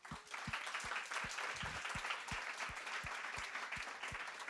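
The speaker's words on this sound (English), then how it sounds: "I would like a huge round of applause for the 3 people that are going to join us right now" Live tech event audience applauding steadily for arriving speakers, dense clapping throughout with a few louder individual claps standing out, no talk.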